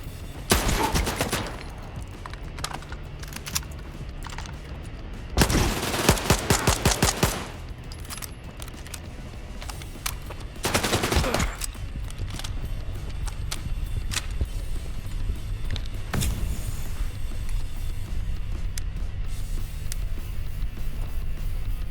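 Gunfire in STALKER 2, loud close bursts of rapid automatic shots in several strings separated by pauses, over a steady rumbling game ambience.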